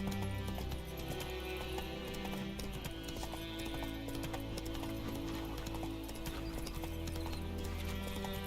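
Hooves of the horse in The Witcher 3 clip-clop in a steady trotting rhythm throughout, loud and close, with an occasional snort or whinny mixed in.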